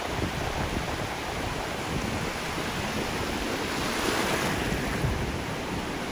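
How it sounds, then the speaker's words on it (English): Ocean waves wash continuously against a beach in Kollam, Kerala with a broad, steady roar and some wind noise, no voices present. "the weather was very calm and quiet, and waves moving across."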